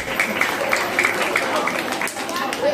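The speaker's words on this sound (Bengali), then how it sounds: "সবাই একটু হাততালি দিয়ে উৎসাহিত করবেন।" An audience claps at a Teacher's Day celebration, a steady ripple of hand claps and crowd murmur lasting a few seconds, with a voice speaking over it.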